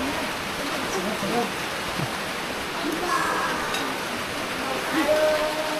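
Steady broadband hiss of rain falling in Biñan, constant and moderately loud, with faint scattered voices and small sounds underneath.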